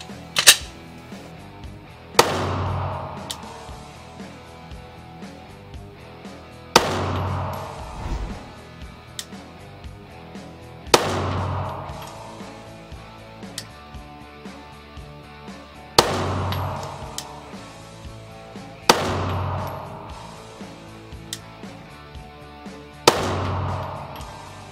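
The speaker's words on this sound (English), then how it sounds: "Now my Glock 19 with a standard trigger." Glock 19 pistol with a standard trigger fires six single shots, each a loud sharp crack with a ringing decay, spaced roughly four to five seconds apart with no talking.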